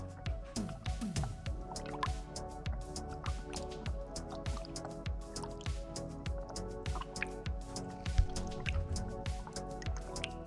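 Coolant bubbles and gurgles continuously in the cooling system of a 2010 Mazda 6 (GH) during a coolant change, with rapid wet pops and drips at close range over a low steady hum, no voices.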